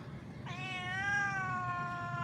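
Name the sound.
cat meowing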